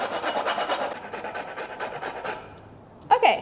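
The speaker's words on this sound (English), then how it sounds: "So we're going to grate in some of our Tonka bean into our butter. And I've got here a microplane" A tonka bean scraped on a microplane gives quick, rhythmic rasping strokes up close, fading after a couple of seconds before a brief sharp knock.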